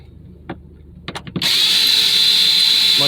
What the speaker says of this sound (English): you're either going to use a larger flathead to unscrew it, or you're going to have a Torx bit